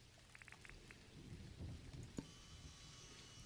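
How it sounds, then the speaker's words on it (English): A thunderstorm in the farming game Dinkum brings soft, steady rain with a muffled rumble of thunder and a sharp crack partway through, fairly faint and without voices. "Ooh, got some thunder. It's not just rainy today. It is a thunderstorm."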